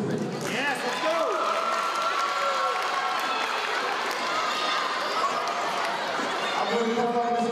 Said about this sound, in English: Round of applause for the teacher participate.